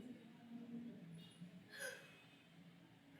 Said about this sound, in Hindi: हिचकी पे हिचकी आ रहा है सुबह सुबह